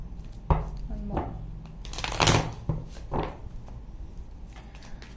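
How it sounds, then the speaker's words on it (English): Tarot cards being shuffled up close, a few quick riffles and soft slaps with brief pauses between, fairly quiet. "One more shuffle, please."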